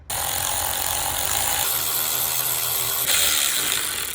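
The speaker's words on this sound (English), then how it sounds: "I'm gonna go ahead and take those 4 bolts out" A hand ratchet clicks steadily and close up while backing bolts out of a water pump on a TCM wheel loader with an Isuzu 3.3/3.9L engine, a dense mechanical ratcheting that shifts in pitch partway through.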